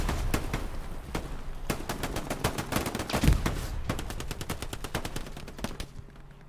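Machine gun fire in the video game Hell Let Loose, repeated rapid bursts of sharp cracks at moderate distance, fairly quiet overall with dense overlapping shots and a brief pause near the end.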